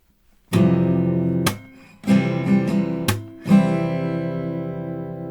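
Guitar chords ring out between sharp percussive hits on the strings, a few strums broken by slaps in a slow, punchy rhythm.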